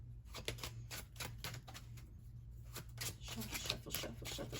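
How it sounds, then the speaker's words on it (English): A deck of cards is shuffled close up in quick, rustling, fluttering bursts over several seconds, fairly soft, with a low steady hum underneath. "let's go ahead and shuffle up these cards a little bit."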